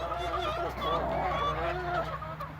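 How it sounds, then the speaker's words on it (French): Crossbred hens and a young crossbred Sabelpoot cockerel calling, with overlapping clucks and honking crows close by, continuing steadily for a few seconds. "Ça, c'est un petit coq croisé sabelpout."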